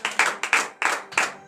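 A church congregation at a morning prayer service in Benin claps in acclamation, a few close, bright bursts of handclaps in an uneven rhythm with brief gaps between them.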